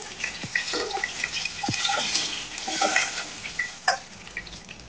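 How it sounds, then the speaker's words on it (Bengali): Dried red chillies and nigella seeds sizzle in hot tempering oil after fish has been fried, a moderate crackling hiss with a few sharp ticks and light clinks. "ফোড়নে দিয়ে দিচ্ছি 2টো শুকনো লঙ্কা, কালো জিরে"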